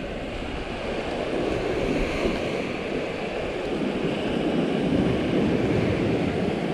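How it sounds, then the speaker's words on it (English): Ocean waves roll and break on a beach as the tide comes in, a continuous close surf roar with wind buffeting the microphone, steady and loud throughout with no voices. "I'm out in the waves."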